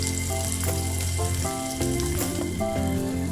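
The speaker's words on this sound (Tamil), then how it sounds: "வெங்காயத்தை போட்டு 1 நிமிஷம் நல்லா சாட் பண்ணிக்கோங்க." Onions sauté in hot sesame oil in a pot, giving a continuous close sizzle under steady background music.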